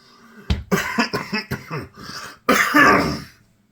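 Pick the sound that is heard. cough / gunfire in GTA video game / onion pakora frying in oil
cough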